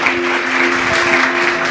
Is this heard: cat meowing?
no